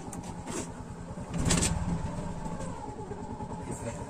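An auto rickshaw engine runs steadily through a ride, a continuous low rumble with a brief louder surge midway and faint talk in the background.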